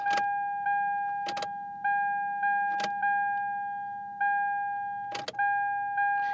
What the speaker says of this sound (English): Now we need to switch the ignition from on and off twice.